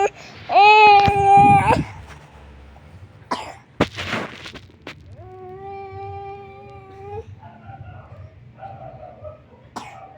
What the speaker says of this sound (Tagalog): Di makatulog sa kanyang ubo.